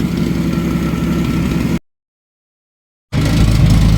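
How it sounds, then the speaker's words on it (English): A 1990 Jeep YJ 4.2L engine with an exhaust leak, running rich, idles with a rough, puffing rumble, cuts to silence for over a second, then resumes just as loud. "it clearly sounds like an exhaust leak now"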